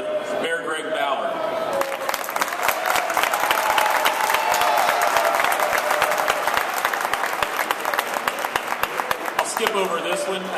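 A crowd at a charter schools rally applauds, loud sustained clapping with some cheering that rises and holds across the whole stretch before tapering slightly at the end.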